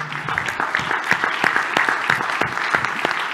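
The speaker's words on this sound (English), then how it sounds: "please a round of applause for Isovalent, one of our platinum sponsors" A conference audience applauds a sponsor, producing steady, fairly loud clapping from a large crowd that fills the whole stretch with little speech.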